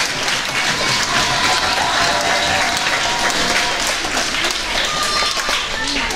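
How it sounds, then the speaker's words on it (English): An audience bursts into loud, sustained applause, dense clapping filling the room throughout with a few voices mixed in. "So let's hear it for my brother and good friend Mike."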